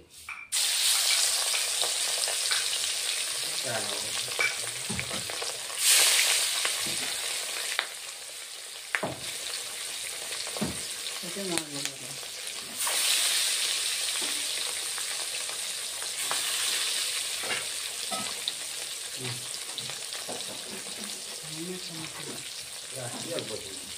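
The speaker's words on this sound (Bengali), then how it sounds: "এবার আর একবার ভেজে নিচ্ছি।" Katla fish frying in a pan for a mustard fish dish, a strong continuous hiss of hot oil with occasional stirring and louder sizzling surges, close throughout, with faint voices murmuring underneath.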